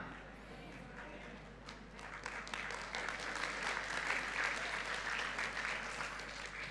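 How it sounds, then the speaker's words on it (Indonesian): A church congregation applauds during a sermon, the clapping starting softly and swelling into a thick, sustained round that grows louder past the midpoint and stays busy to the end, with no voice over it. "ada tepuk tangan memang saya tungguin"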